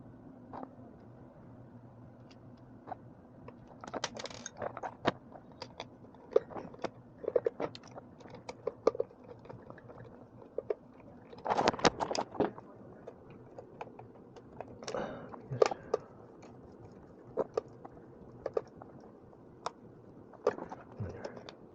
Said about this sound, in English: So I'm gonna put the motor cover back on.